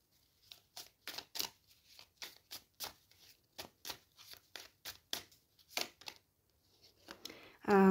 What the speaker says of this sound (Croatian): Ovdje su mi popale karte.